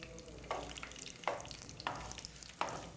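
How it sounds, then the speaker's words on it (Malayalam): Fenugreek and chillies fry in oil for a homemade spice powder, a soft steady sizzle broken by four regular scrapes of stirring, quiet and close. "ഉലുവയും മുളകും എല്ലാം നമ്മൾ എണ്ണയിൽ തന്നെ വറുത്ത് പൊടിക്കണമെന്നാണ് അമ്മൂമ്മ പറയുന്നത്"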